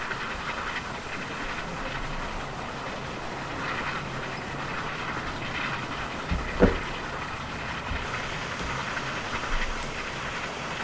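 A Britannia class steam locomotive runs in Train Simulator, a steady rolling rumble and hiss of steam with a single sharp clank partway through.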